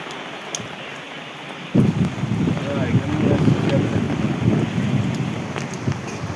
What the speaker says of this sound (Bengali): এই জোর এসে গেছে বৃষ্টি রে।